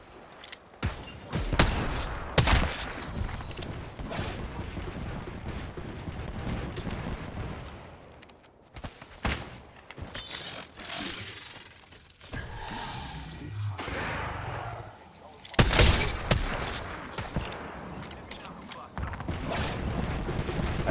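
Rapid bursts of gunfire and explosions ring out during an Apex Legends match, with repeated loud volleys of shots at varying distances while players talk excitedly over the action.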